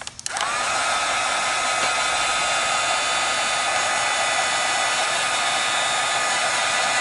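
A heat tool blasts air over wet sparkling pigment paint, switching on with a click and then roaring in one loud, steady, unbroken hiss, no voices.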